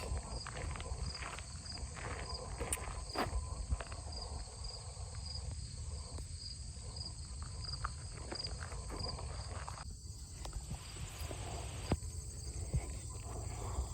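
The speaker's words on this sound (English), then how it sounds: "Plenty of crickets." Crickets chirp steadily along a quiet trail near Lands End, a continuous high, shimmering drone with faint footsteps crunching underneath throughout.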